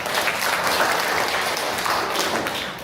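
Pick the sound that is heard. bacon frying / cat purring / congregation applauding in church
congregation applauding in church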